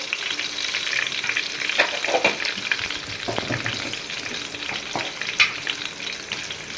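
Onions sizzling and frying with spices in a pan for an aloo chicken curry, a steady close crackle with occasional scraping stirs and small pops throughout, no voices.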